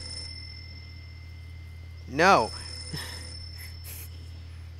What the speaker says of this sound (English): That ringing phone.